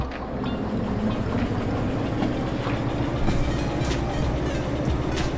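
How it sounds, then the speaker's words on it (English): A train rolls slowly along rails in the Derail Valley video game, a steady low rumble with rhythmic clickety-clack of wheels over rail joints, continuous and fairly close. "Go forward slowly, no faster than 30 kilometers an hour, and park the train into the service point."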